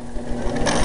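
A sewing machine stitches a hem along the ruffle of a lace fingerless glove, a brief, close, steady mechanical whir with a faint rhythmic ticking pulse.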